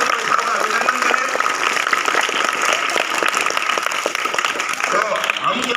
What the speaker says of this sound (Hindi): तो आप जोरदार तालियां बजा के टिंकू जी भाई साहब का अभिनंदन करें।